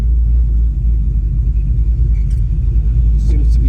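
A 1986 Chevrolet Silverado pickup driving, heard from inside as a steady, loud low engine and road rumble, with a brief faint sound passing partway through.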